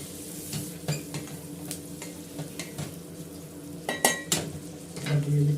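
Chilli chicken is stir-fried in a pan, with a soft sizzle under scattered clinks and scrapes of a spatula against metal, close up and fairly quiet, with no talk.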